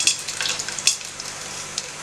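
Hot oil sizzles and crackles in short bursts as whole spices such as peppercorns hit the pan for mutton pulao, sharp pops over a steady hiss, close by.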